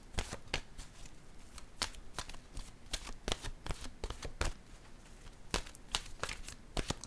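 Tarot cards being shuffled close up, a steady run of soft papery riffles and flicks with sharper snaps scattered throughout, quiet and continuous with no voice.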